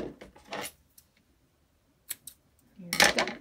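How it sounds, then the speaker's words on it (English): Scissors snip through yarn at the end of a single-crochet winter hat, a few quick, close, quiet cuts separated by silence. "Then cut the string."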